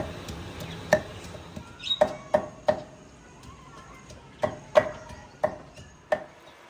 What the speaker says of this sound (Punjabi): ਇੱਧਰ ਨਾ ਅਦਰਕ ਲਸਣ ਜਿਹੜਾ ਵਾ ਨਾ ਉਹ ਕੁੱਟਦੀ ਆ